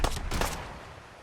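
Game gunfire from Fallout 4: two quick broadband bursts of shots close together at the start, then a fading tail of echo, with no talk over it.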